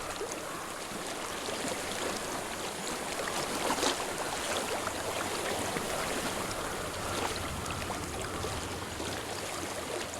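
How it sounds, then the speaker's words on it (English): Steady rushing water flows continuously in the video game Hellblade: Senua's Sacrifice, a broad even wash of sound with no voices. "I hear water."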